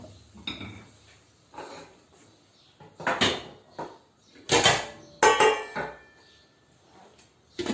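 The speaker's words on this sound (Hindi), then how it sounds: "अब मैं ऊपर से इसको ढक रही हूँ।" Metal lid set onto a cooking pot of chicken, a series of close clanks, scrapes and rattling knocks in irregular bursts with quiet gaps between them, a few louder metallic hits near the middle.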